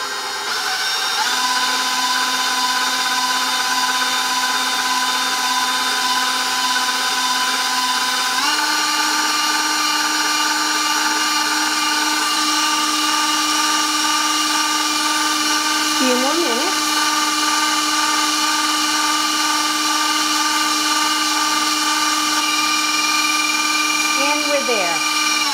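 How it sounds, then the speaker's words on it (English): An electric mixer whirs steadily while whipping ricotta pumpkin cheesecake batter with vanilla to stiff peaks, a sustained tonal drone that shifts up in pitch partway through, with occasional brief scraping sounds as a voice talks over it. "So now I'll turn my mixer off."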